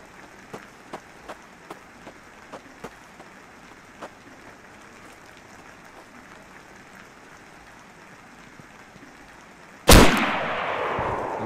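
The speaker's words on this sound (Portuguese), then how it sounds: "E é alto o barulho do tiro, hein?" A single loud gunshot in a post-apocalyptic multiplayer survival video game, a sharp blast with a lingering tail, preceded by a series of faint, evenly spaced clicks or taps over quiet background ambience.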